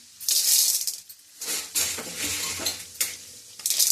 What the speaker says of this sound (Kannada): ಇವಾಗ ಎಣ್ಣೆ ಬಿಸಿ ಆಗಿದೆ ನಾನು ಅರ್ಧ ಕಪ್ನ ಜೋಳನ ಹಾಕ್ತಾ ಇದ್ದೀನಿ